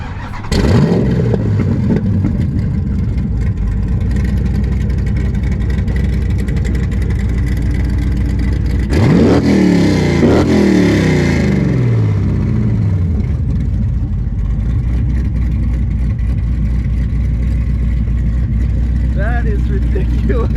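A Dodge Scat Pack with modified exhaust revs over gravel and dirt, giving a loud, sustained engine drone. A sharper rev swells in the middle, and voices talk over it throughout.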